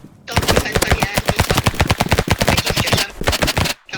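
Rapid gunfire in the video game Rivals, loud dense bursts of repeated shots with a short break before the last volley.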